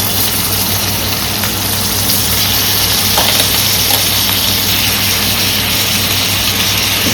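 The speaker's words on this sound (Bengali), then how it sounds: "এই চিংড়ি মাছটা এর মধ্যে দিয়ে দিচ্ছি। এই চিংড়ি মাছটা ভাজা হয়ে যাবে।" Marinated shrimp frying with ginger and garlic in a pan: a loud, dense, constant sizzle and crackle running throughout, over a low steady hum.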